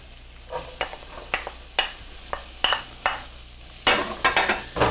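Onions cooking down in a pan for a wilted potato salad dressing: a faint sizzle punctuated by a steady series of sharp spoon scrapes and taps, growing busier toward the end.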